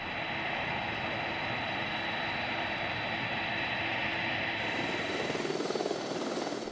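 A helicopter drones steadily with a dense rotor rumble and engine whine, loud and continuous, its thumping growing more pronounced toward the end.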